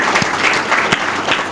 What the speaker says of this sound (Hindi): सब ताली बजाइए।